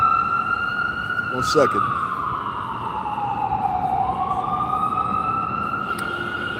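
An ambulance siren wails steadily as the vehicle passes by on a street, its pitch sliding down and back up, moderately loud over traffic noise, while someone speaks briefly near the start.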